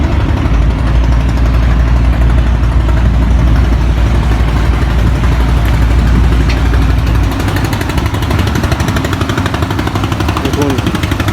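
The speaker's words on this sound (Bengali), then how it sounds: "বিশাল একটি জাহাজ আসতেছে" Large ship's engine on the Shitalakshya river, a loud, steady, rumbling drone with a rapid pulsing throb, close and continuous, easing slightly near the end.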